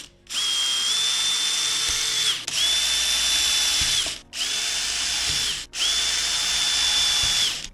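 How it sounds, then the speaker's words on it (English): A 2mm drill bit bores straight through pre-made holes into a sacrificial workbench, the power drill whining loudly in four sustained bursts with short pauses between them, no voices. "I've just got a 2mm drill bit. I'm just going to go straight through these holes."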